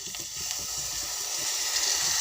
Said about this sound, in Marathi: तर आता मी थोडं पाणी सोडणार आहे